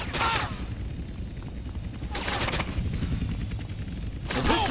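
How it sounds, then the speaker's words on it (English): Gunfire from gunships and a mounted gun emplacement in GTA San Andreas Definitive Edition, heard as short bursts of shots at the start, middle and end over steady game background noise. "Is that somebody else shooting me?"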